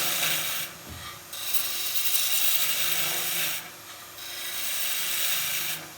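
A 3/4-inch skew chisel cuts spinning wood on a lathe in spindle work, a loud hissing, rasping shear that comes in long passes broken by short pauses as the tool lifts off.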